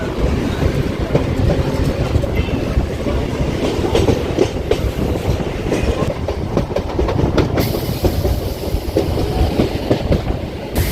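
A local train on the Sealdah–Dankuni line pulls out of Baranagar Road station with a loud, continuous rumble and steady clickety-clack of wheels over rail joints, heard close from on board.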